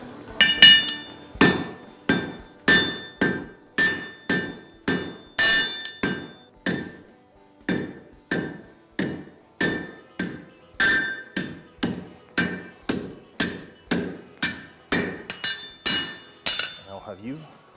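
Steady, ringing hammer blows forge a metal hook, about one or two per second, continuing for the whole stretch with a bright clink on each strike.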